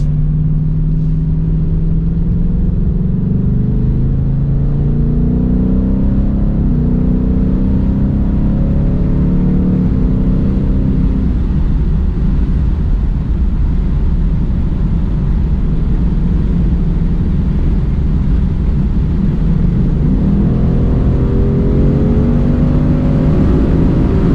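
A 2020 Ford Mustang GT Premium Performance Pack 1 engine revs up loudly and close, climbing in pitch through repeated pulls as the car accelerates hard, with a steady roar throughout.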